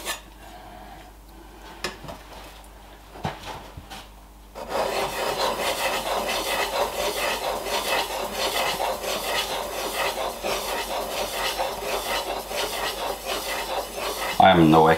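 A woodworking chisel blade is rubbed steadily over a sharpening stone, making a continuous close rasping scrape that starts after a few seconds of sparse light taps and knocks.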